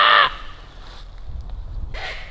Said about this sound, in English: Dude, I think that's a mating call.